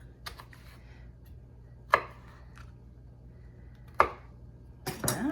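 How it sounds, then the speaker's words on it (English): A kitchen knife cuts the spiny part out of leaves while cooking Polish food, giving a few sharp, separate cutting strokes at irregular intervals against a quiet background, with a rustle near the end. "we need to cut out this spiny part, is what the recipe says"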